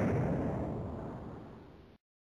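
Incendiary bomb explosion in an animated wartime scene, a single muffled blast whose rumble fades steadily before cutting off abruptly, fairly faint.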